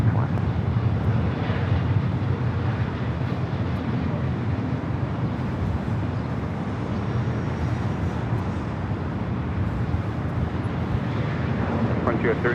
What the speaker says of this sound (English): Delta 737 rolling down to 24 left